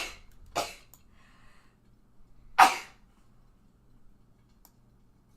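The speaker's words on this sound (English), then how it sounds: "Oh, I sneezed out whatever I was going to say." A person sneezes in a quiet room with two short, sharp bursts about two seconds apart, the second louder, and only faint ticks in between.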